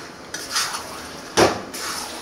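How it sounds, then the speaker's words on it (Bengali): Chicken curry meat stir-fried in a pan sounds close and fairly loud, with two bursts of metal utensil scraping and clattering against the pan over a soft sizzle. "খুব সুন্দরভাবে কষিয়ে নেওয়া হচ্ছে মাংসটাকে"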